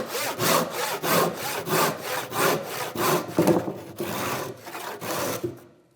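A hand saw cuts through wood for a workbench in steady back-and-forth strokes, about eleven even rasping passes, close and loud, with no voices, ending as the cut finishes.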